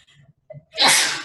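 A single sharp sneeze bursts out after a short inhale, loud and close.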